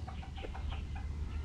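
A gamefowl stag rooster sold as a stag derby prospect gives a string of soft, short clucks at close range over a low background rumble, with no talking.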